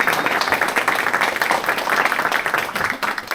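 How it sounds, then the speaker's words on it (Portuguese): An audience at the Liberty Forum 2024 applauds a speaker being welcomed on stage, dense clapping throughout at steady strength, with faint voices mixed in. "Eu quero que vocês recebam com muito carinho uma salva de palmas"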